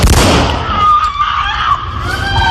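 Gunfire from a police shooting captured on a Mesquite officer's body-worn camera: loud, close, sharp bangs burst out at the start, followed by a harsh, noisy wash with shouting or screaming.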